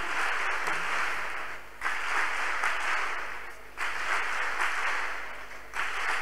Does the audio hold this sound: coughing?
no